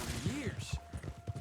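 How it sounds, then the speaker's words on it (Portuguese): Gunfire from the Western video game Red Dead Online, a quick burst of sharp shots mixed with game sound effects and someone talking over it. "Vou dar só um tiro no saco mesmo,"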